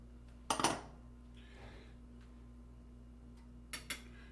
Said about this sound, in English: We're just going to mix that up together.